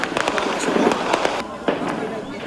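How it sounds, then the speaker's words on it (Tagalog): Gunfire from fighting between the military and the Maute Group in Marawi City: a rapid run of sharp cracks in irregular bursts, moderately loud and somewhat distant, over a rumbling background with faint voices. "Sa namang bahagi ng lungsod, marinig ang putukan ng mga baril."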